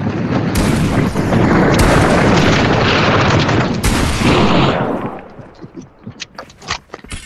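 Heavy video game gunfire booms in loud, dense bursts for several seconds, then breaks into scattered single shots as the firing thins out.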